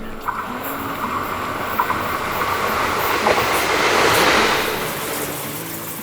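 A train rumbles steadily past on the tracks, loud and close, with a broad roar that swells toward the middle and faint rhythmic clacking.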